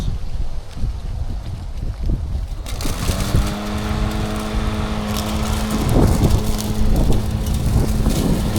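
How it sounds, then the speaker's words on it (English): A Mowrator S1 mower with aggressive tires starts up and climbs a steep hillside of about 85 percent grade, its motor whine rising and holding steady, close and loud over strong wind noise. "So let's start the mower, and let's see how it does."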